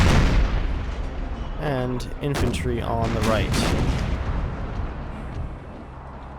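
Howitzer artillery booms in Empire: Total War with a Civil War mod, a heavy blast at the start and scattered rumbling shots that fade toward the end, while someone talks over the firing.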